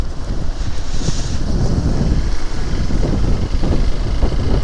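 Strong wind blows steadily outdoors, buffeting the microphone with a continuous loud low roar and gusty rumble throughout, no voices.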